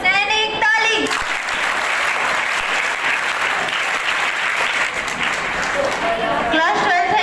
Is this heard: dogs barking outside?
no